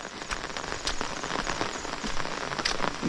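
Heavy monsoon rain pours down in a Konkan village, a dense steady patter on surfaces with sharp drip splashes scattered through, close and loud with no voices.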